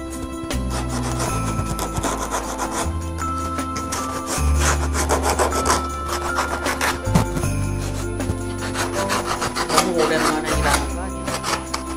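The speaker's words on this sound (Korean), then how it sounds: "사포름은 굵은 거부터 차례차례 고운 거로 나눠서 합니다" Sandpaper rasps back and forth over a handmade birch wood spatula in a steady, close scrubbing rhythm, with a low hum running underneath.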